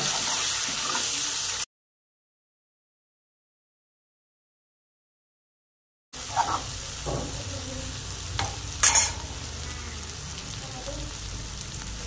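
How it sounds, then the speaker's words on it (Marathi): Vegetables seasoned with chili powder sauté in oil in a pan, producing a close, steady sizzle with stirring scrapes. The sound cuts out to complete silence for several seconds, then returns. "आता ह्याला आपण परतून घेऊया।"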